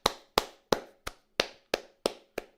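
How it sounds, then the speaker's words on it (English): Slow, steady clapping for a guest speaker: eight sharp, evenly spaced claps about a third of a second apart, close and distinct, like a single pair of hands rather than a full crowd. "Real huge hand of applause."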